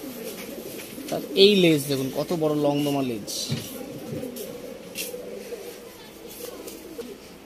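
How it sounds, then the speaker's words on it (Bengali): Long-tailed pigeons coo with a few rising and falling calls near the start, close by, while someone talks over them throughout. "আরেকটি পায়রা দেখুন, এটাও লংদমা পায়রা, মাদা গেরোবাজ পায়রা"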